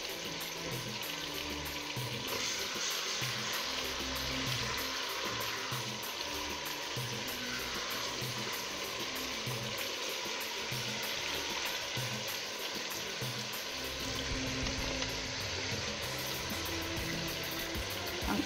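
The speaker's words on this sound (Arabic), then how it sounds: "خليه يتقلى، خليه يتقلى ان شاء الله يتقلى" Chicken pieces fry in hot oil in a pan, a steady dense sizzle with faint crackles that runs continuously and fairly quietly, with no talking.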